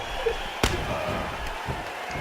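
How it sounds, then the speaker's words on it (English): A wrestling scoop slam on a televised Smackdown event, a single heavy thud of a body hitting the ring mat, heard over a steady crowd roar and commentary, with a couple of smaller thumps following. "That hammer-like scoop slam."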